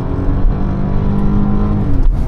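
Ethanol-tuned Iveco Daily engine on a kickdown, holding a loud, steady, close engine drone as it pulls to around 5000 rpm, with a brief dip near the end.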